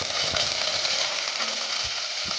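Ridge gourd fries in a pan with a loud, dense, continuous sizzle as it is stirred, with soft scraping of a spoon underneath.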